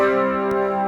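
A brief clean-tone electric guitar passage from the bridge of a song, sustained ringing notes with open high strings, played alone with a small pick click midway.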